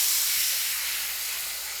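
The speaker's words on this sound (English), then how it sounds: "we're gonna deglaze that with a little wine" Wine hitting a hot pan while deglazing it for chicken piccata, giving a loud, steady steamy hiss and sizzle that slowly fades over about two seconds, with no talking.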